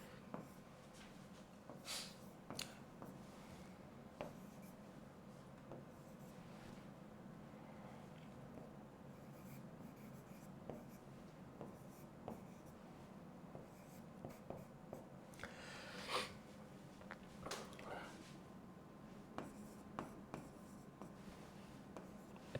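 Chalk or marker writes on a classroom board in short scratchy strokes and taps, faint and intermittent over a quiet room hum.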